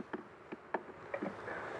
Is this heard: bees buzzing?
yes